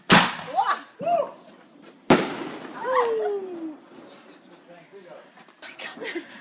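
Fireworks and firecrackers go off at a nighttime celebration, two sharp loud bangs followed by crackling and whistling fizzes, with people shouting and talking throughout.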